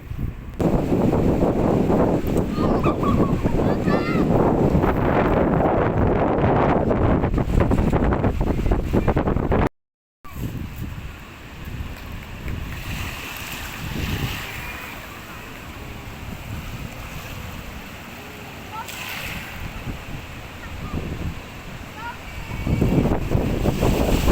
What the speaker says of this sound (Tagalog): Pero dito sa taas kakusog sa hangin